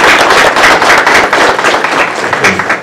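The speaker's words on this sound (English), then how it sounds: "let's give a warm round of applause" A warm round of applause from the audience at a Black History Month kickoff celebration, dense steady clapping close and loud throughout.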